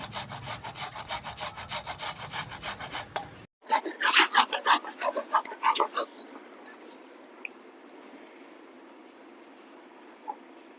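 Carrots are grated by hand for gajrela, a milk-based carrot halwa: rapid rhythmic rasping strokes for a few seconds, a brief pause, then another burst of grating that fades into quieter handling noises.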